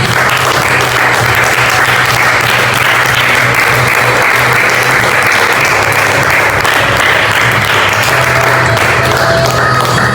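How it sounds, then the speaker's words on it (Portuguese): Loud, dense applause from a church congregation for Jesus, sustained and even from start to finish, with a low steady hum underneath. "Quantos podem dar um forte aplauso ao Senhor Jesus?"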